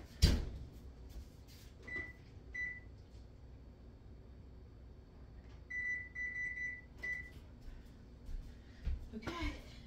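A kitchen timer beeps while vegan date nut ball biscotti bake, with short, thin electronic beeps near two seconds and a faster cluster around six to seven seconds, amid clattering kitchen handling and a person speaking.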